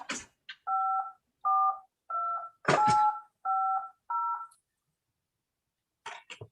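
A series of six short DTMF touch-tone beeps dialing an AllStar amateur radio node plays in an even rhythm, broken by bursts of static and clicks, then silence and a final crackle.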